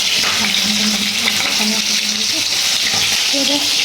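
Fish frying in a pan on a home kitchen stove gives a steady, close, bright sizzle with a continuous crackle, while a voice murmurs faintly underneath.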